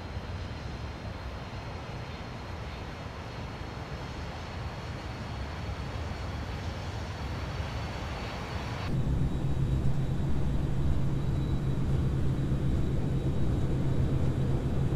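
A Boeing 727 jet takes off in the FSX flight simulator, its engines a loud steady roar that swells sharply into a heavier, deeper rumble partway through.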